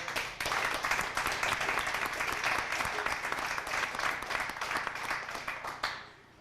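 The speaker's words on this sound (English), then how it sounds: "if we can give them a round of applause" An audience at a community gathering in Hearst, Ontario breaks into applause, a full and steady roar of clapping that holds for several seconds and then falls off quickly at the close.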